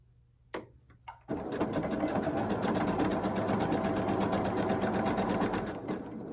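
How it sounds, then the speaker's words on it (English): After a couple of sharp clicks, a sewing machine stitching a quilt block runs in one steady, fast, close burst of needle chatter for several seconds, then slows and stops. "And sew directly on the line."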